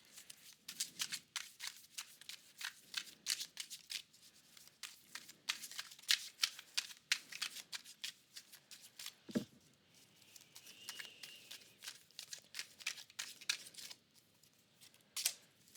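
Tarot cards being shuffled close up, a long run of crisp riffling and papery flicks in uneven bursts, with a brief soft thump partway through and no voices.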